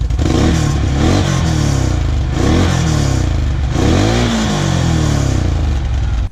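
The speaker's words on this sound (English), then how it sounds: "we're gonna turn on the Can-Am, the XMR 1000, the mud racing machine. Hit it, boy. Rev it a little bit." A Can-Am XMR 1000 mud racing machine's engine is revved hard, loud and close, in several rising and falling pulls over a steady rumbling idle.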